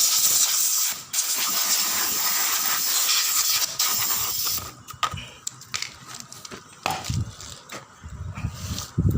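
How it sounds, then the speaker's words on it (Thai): Lawn mower parts being washed and blown clean with a spray: a loud, steady hissing blast for several seconds, then broken bursts of spray mixed with knocks and clatter from the parts. "เราก็ล้างพวกนี้ครับ ล้างไปเป่าไปครับ"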